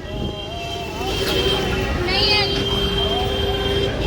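Tractors pulling trailers rumble past steadily, with engine drone and a rising horn-like tone midway, under a busy outdoor background of a large gathering at Fatehgarh Sahib.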